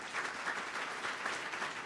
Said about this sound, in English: please let's give our Board of Education a big round of applause